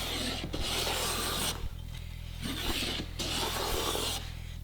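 A hand plane takes shavings off a board of birdseye maple in repeated strokes, each a rasping swish of about a second with short pauses between, close and clear with no talking.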